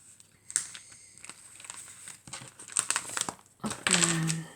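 Stickers are peeled off crinkly plastic packaging, giving bursts of sharp crackling and crinkling with small tearing sounds, close and loud, with faint talking.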